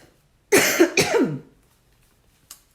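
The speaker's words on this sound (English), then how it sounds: "Don't quite know why I'm coughing" Two harsh coughs in quick succession, close and loud, followed by quiet and a faint brief sound near the end.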